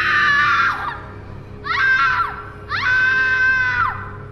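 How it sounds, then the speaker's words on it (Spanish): Three loud, high-pitched screams from a girl, each held for about a second with a falling tail and separated by short pauses, sounding close over a faint room hum. "escuché el grito agudo y fuerte de Ellie provenir del armario"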